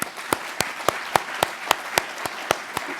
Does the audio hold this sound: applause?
yes